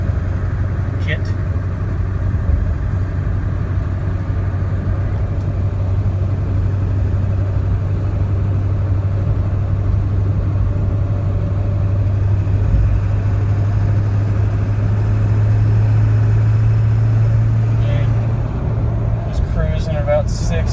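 A 2000 Ford 7.3 diesel truck fitted with an aftermarket exhaust idles in a steady, deep, even rumble that holds unchanged throughout, with faint talk in the background.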